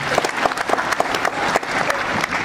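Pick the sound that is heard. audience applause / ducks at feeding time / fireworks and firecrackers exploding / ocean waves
audience applause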